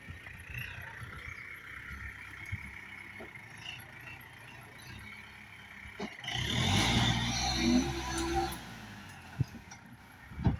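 A tractor engine runs at a low idle while leveling clay ground, then revs up loudly for a couple of seconds before easing back to a quieter rumble.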